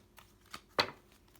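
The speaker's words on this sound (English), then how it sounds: "whenever cards jump like that, I stop shuffling and I just start taking cards off the deck" Tarot cards being shuffled by hand during a card reading, a few soft riffling bursts with one louder flurry, close and quiet with no talking.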